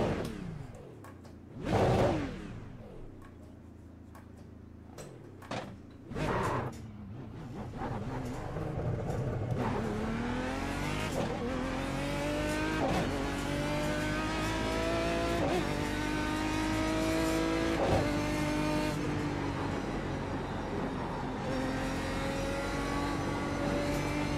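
A race car engine in a sim racing video game, revving and accelerating through a lap after the competition pedals are recalibrated, with rising and falling pitch as gears shift, steady and loud after a few brief bursts at the start.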